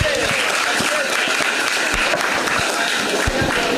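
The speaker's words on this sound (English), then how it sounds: "Can we give them a round of applause?" Steady, dense applause from an audience at a Year 11 school prize giving ceremony, clapping continuously throughout with no pauses.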